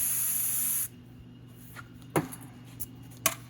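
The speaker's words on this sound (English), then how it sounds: "hit it with some brake clean" Brake cleaner sprays in a loud, close hiss on a Ram 3500's brake caliper slider pins, cutting off abruptly after under a second, followed by quiet shop ambience with a few faint clanks.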